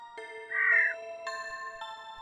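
A cartoon bird gives a short, bright squawking call, loud and close, sitting over a steady musical tone backdrop.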